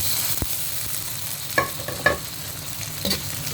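Tomato stirred into chicken liver frying in a pan, a continuous close sizzle with a few clinks of the spatula against the pan.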